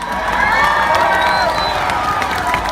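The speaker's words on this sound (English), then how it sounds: "So please give them a huge round of applause." A crowd at a 2018 pro-life rally claps and cheers, loud, sustained applause mixed with whoops and shouting voices filling the whole stretch at close range.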